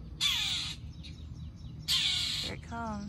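Crow cawing outdoors, two loud harsh caws about a second and a half apart, near and clear, with a fainter call trailing after the second one.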